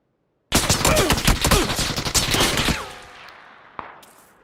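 Automatic gunfire in PUBG breaks out suddenly as a rapid, loud burst of shots lasting over two seconds, then echoes away, followed by a single sharp distant report.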